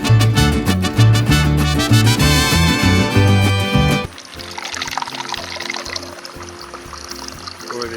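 A spicy margarita poured from a shaker into a rimmed glass, a short liquid pour heard under loud music that drops away halfway through.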